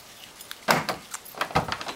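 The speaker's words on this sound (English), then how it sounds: "if you put an actuator in the other door, it does the same thing." An Opel GT's remote door lock actuator fires in two short, sharp mechanical clunks, spaced under a second apart, close up in a quiet setting.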